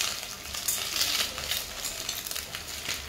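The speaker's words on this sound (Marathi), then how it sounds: "तर असं मी तेलामध्ये छान परतून घेणार आहे।" Eggs coated in turmeric masala sauté in hot oil, giving a steady close sizzle with soft stirring scrapes throughout, no voices.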